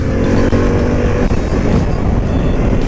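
A Harley-Davidson Pan America adventure motorcycle engine pulls hard out of corners with strong low-end torque, a steady loud close-up drone that barely wavers, blended with rushing wind.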